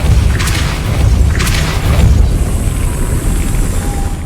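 The Depulso force spell is cast in Hogwarts Legacy, heard as a loud, deep booming blast with two sharp bursts of impact, then a rumbling tail under a high magical shimmer.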